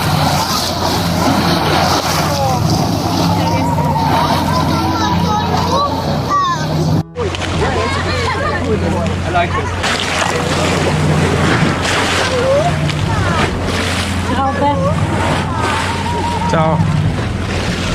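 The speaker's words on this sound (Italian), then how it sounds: "abbiamo il suono in base al movimento delle onde" Sea organ sounding with the movement of waves, steady low tones and hooting pipe notes over surf and wind outdoors, with people talking throughout.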